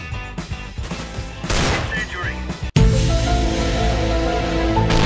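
Gunfire in the video game CS:GO, loud bursts of shots with crashing impacts filling the whole stretch, the second half dense and sustained, with game sounds around it.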